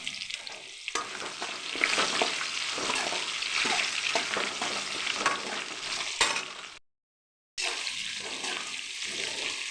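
Onion fries in a pan, a dense, loud sizzle that runs steadily with faint stirring scrapes, cutting out briefly to silence before resuming, close and without talk.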